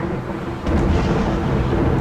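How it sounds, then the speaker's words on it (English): Deep rolling thunder from a dry thunderstorm in the video game Rimworld swells into a loud, sustained low rumble after a brief quieter moment, with no voices over it. "Oh, a dry thunderstorm."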